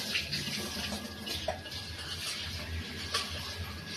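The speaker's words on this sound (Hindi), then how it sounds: "तो पानी चल रहा है, मोटर चल रही है" Water pumped by a running motor splashes and flows steadily at moderate distance, a continuous rushing wash with occasional louder spatters and a low hum beneath, no talking.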